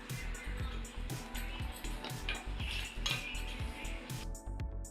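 A spoon stirring rava kesari in a metal pan after cardamom is added, with repeated rhythmic scraping and clinking against the pan; quiet and close, with a voice speaking at times.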